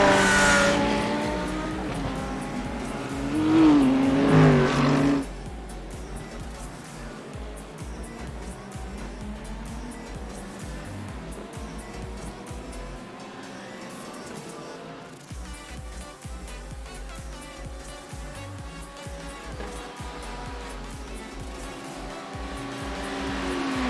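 Race cars at the Bathurst 12 Hour endurance race, including a green Lamborghini, roar past with loud engine drones, one car briefly screaming close by before the steady rumble of traffic continues.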